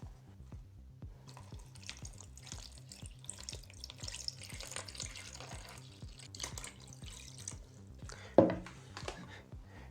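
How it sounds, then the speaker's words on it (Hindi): Water poured from a mug into a homemade paint-bucket cooler, a steady close trickle and splash over about ten seconds with a rhythmic low thumping underneath and a brief louder splash near the end. "तो चलिए अब इसमें पानी डालते हैं।"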